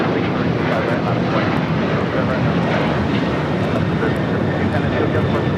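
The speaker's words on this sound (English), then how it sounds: "This is Alaska Airlines 1352 taking off to San Jose, Costa Rica on a 737-800" Alaska Airlines Boeing 737-800 departing LAX, a steady, loud jet engine roar that holds broadband and unbroken throughout, with the faint hum of an outdoor live-stream setting and occasional talk mixed beneath.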